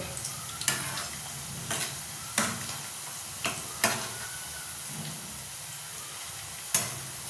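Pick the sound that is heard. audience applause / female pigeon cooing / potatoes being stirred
potatoes being stirred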